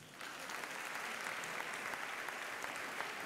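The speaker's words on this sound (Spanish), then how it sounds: "Niños y niñas, aplauso para mi conejo." An audience of children and families at a Three Kings welcome event in Santa Lucía claps for a magician's rabbit trick, a brief, even burst of many hands that starts abruptly and holds steady.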